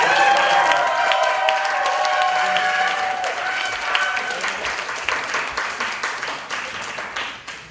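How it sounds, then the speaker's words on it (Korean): A church congregation at a youth worship service applauds to welcome the pastor, with dense sustained clapping that gradually thins and fades over several seconds while cheering voices ring through it. "큰 박수로 환영하면서"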